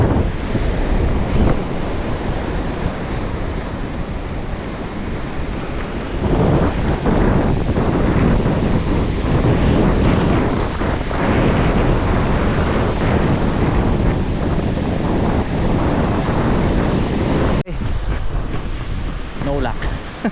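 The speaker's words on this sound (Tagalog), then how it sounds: "Biglang humangin." Strong wind buffets the microphone over crashing waves and surf at sea during a fishing trip on a boat, a loud, continuous roar with gusts throughout.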